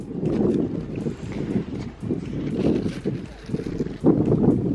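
Wind blowing across a Sardinian beach roars against the microphone in a near, continuous low rumble that rises and dips in gusts, with a little talking mixed in.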